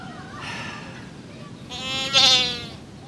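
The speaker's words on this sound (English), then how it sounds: "If it baas, we can't help you." A goat bleats twice, a shorter cry followed by a louder, wavering one, close by and alone without other sounds.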